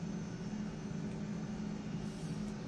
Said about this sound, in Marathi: आता आपण त्याच दिशेने चालू आहोत आणि विमान आता डावीकडे वळणार